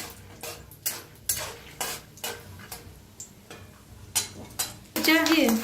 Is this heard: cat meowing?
no